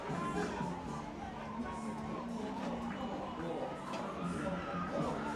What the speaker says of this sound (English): the women come off the field, tip their caps to the fans all cheering for the Queens here on the third base side